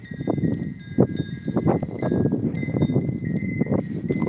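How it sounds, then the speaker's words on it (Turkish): Cowbells clanking irregularly on the necks of cows moving about nearby, with steady rustling and shuffling underneath and no voices. "Boyunda çan var. Onun çanların sesi geliyor."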